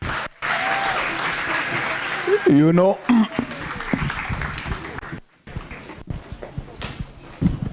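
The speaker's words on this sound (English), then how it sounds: "Another round of applause" Audience applause at a commerce and entrepreneurship school event: a broad wash of clapping across the room, broken by brief drops, with a speaker's voice over it.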